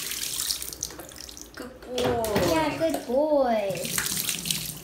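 Tap water splashes and runs during a child's bath, a steady gushing stream heard close by, while an adult speaks soothingly over it.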